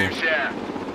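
A helicopter in the real-time strategy video game Broken Arrow makes a steady rotor and engine drone, fairly loud and close for about a second, with a voice talking over it.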